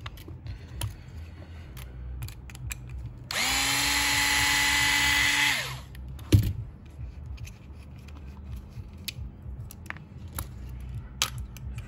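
An electric screwdriver backs screws out of the gear cover on an FTX RC car, one whirring burst of a couple of seconds followed by a sharp click, with faint handling noises around it.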